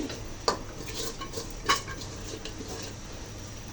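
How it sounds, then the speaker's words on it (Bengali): Ingredients stir-fried together in a pan, with a couple of distinct metal spatula clinks against the pan and a quiet continuous scraping and sizzling hiss throughout, close and fairly soft, without speech. "এই যে এগুলো সবগুলো দিয়ে আমি একেবারে এগুলো ভাজি করে নিচ্ছি"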